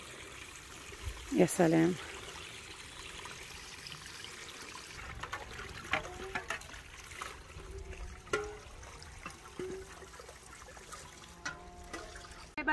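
Mountain spring water trickles and splashes softly while dishes are washed in it outdoors, with occasional clinks and voices talking nearby.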